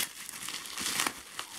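Parcel packaging sealed with strong tape crinkles and rustles up close in a steady, brief burst of crackling with no talking.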